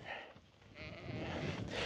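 Katahdin hair sheep bleating during a herding drive over pasture regrowth, several faint calls rising over a low outdoor rumble, heard at a distance with no talk.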